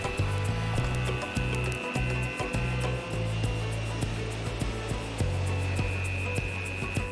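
A router or milling tool cuts across a walnut and resin dining table slab, a loud continuous whine with rhythmic rubbing and grinding passes, close by with no voices.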